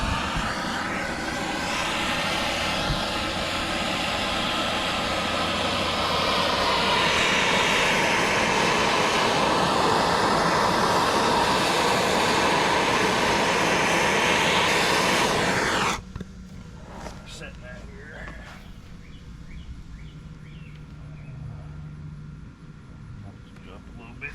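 A 110-volt welder laying a bead on a cracked stainless steel header from a 2000 Dodge Durango gives a loud, steady, harsh hiss for about sixteen seconds, then cuts off abruptly to a quiet background.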